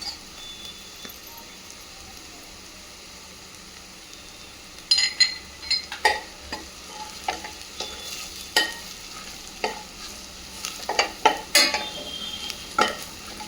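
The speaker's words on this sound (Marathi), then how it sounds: "चांगला परतून तेल सुटतो परतायचा मसाला" Homemade black and yellow masala with turmeric tipped into hot oil and stirred for a Kulith usal, with a quiet opening followed by repeated scraping and clinking spoon strokes over a soft background sizzle.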